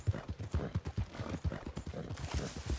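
Horse hooves clip-clop in steady, fairly close rhythm across a dirt path in the video game Red Dead Redemption 2, with a faint bit of background noise behind the hoofbeats.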